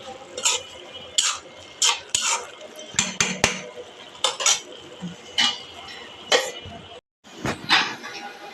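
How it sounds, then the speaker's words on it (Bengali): A spoon stirs food in a pot after orange juice has been added, giving a series of close, sharp scraping clinks against the metal in irregular bursts with brief pauses, loud and alone. "এখন একটু নেড়ে দেব"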